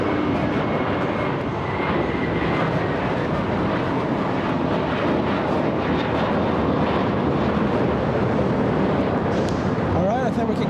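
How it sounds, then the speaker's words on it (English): An Aeromexico Boeing 737-800 with CFM56 engines fills the air at LAX with a loud, dense, unbroken jet roar that stays level throughout, and a faint voice sits low beneath it. "The aircraft a 737-800 powered by CFM56 engines."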